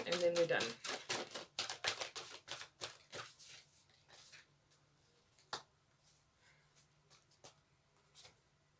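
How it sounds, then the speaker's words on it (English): Tarot cards being shuffled by hand, a dense run of quick riffling flicks that thins into scattered soft taps and slides, close and fairly quiet, with a voice speaking at times. "I'm going to shuffle this and one more time, and then we're done."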